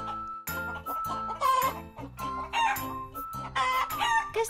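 Hens clucking in a busy chorus on a farm while a rooster crows, loud, close and overlapping, with pitched calls rising and falling throughout.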